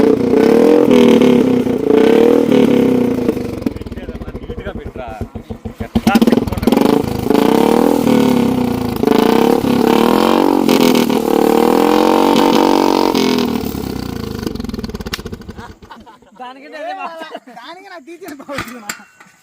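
Royal Enfield Bullet motorcycle with a very loud aftermarket silencer revving hard close by, a sustained roaring engine that rises and falls before dying away near the end.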